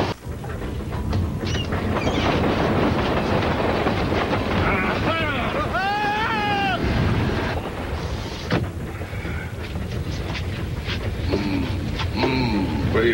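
A runaway train roars along in a loud, steady rumble with wind buffeting the microphone, and a short metallic squeal rises and falls midway through.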